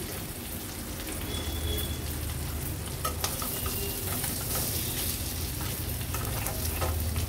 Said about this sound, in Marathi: हे बघा, आपली ही चिंबोरी पण व्यवस्थित फ्राय झाली आहे सर्व बाजूनी।